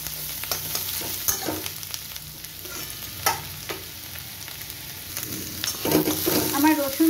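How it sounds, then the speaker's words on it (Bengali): Garlic fries in oil in a pan while being stirred, a continuous crackling sizzle punctuated by repeated spatula scrapes and knocks, growing louder and more bubbly toward the end. "রসুনটা একটু ভালো করে ভাজা হয়ে গেলে মশলাপাতি আমি আস্তে আস্তে সব দিয়ে দেবো।"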